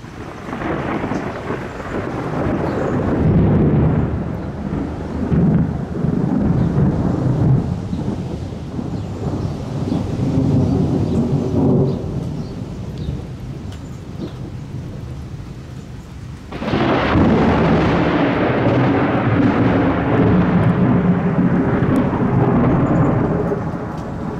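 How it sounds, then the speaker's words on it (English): An October thunderstorm in Illinois, with loud, long rumbles of thunder rolling over steady rain and wind, and a fresh sharp crash partway through. Nobody speaks. "little October thunder."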